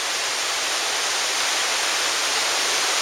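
A waterfall in Zion National Park cascades down in a steady, dense broadband rush that fills the whole three seconds, loud and even with no pauses and no voices.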